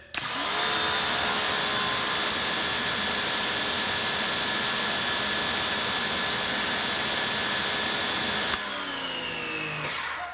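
Pressure washer firing through a 2.5 millimeter orifice at just over 1200 PSI, a loud, steady hissing roar running unbroken for about eight seconds before the spray cuts off, leaving a quieter, lower motor hum to the end.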